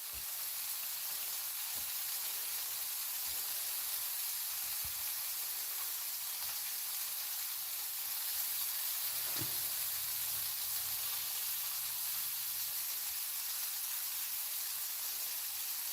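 Food caramelizing in a hot pan sizzles in a steady, dense hiss that runs unbroken and fairly loud for the whole stretch, with a few faint clicks and low thumps beneath and no talking.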